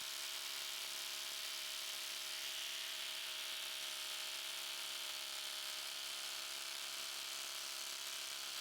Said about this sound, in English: Dewalt XR running the 4 amp hour power pack.